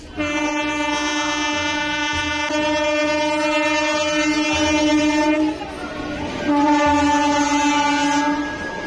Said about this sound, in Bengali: পেছন দিয়ে দেখতে পাবে ট্রেনটা কিরকম আসছে।